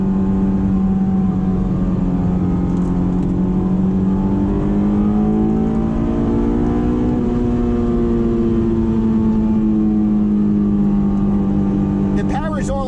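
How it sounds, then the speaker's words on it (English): A Honda S2000 engine drones loudly from inside the cabin as the revs are held high, a steady buzzing tone that rises and falls slightly while someone talks over it. "See how loud it is in here if you keep the revs up?"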